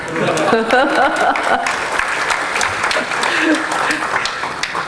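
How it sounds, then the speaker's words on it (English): Audience applause at a cybersecurity awards gala dinner, a loud sustained clapping crowd in a large hall with a voice speaking over it briefly at the start. "By all means, clap."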